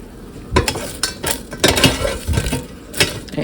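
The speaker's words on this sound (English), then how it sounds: "I'm going to give them a stir" Home fries stirred inside an air fryer basket, giving scraping clinks of the utensil against the metal basket in several quick bursts, with a faint sizzle underneath, close and fairly loud with no talking.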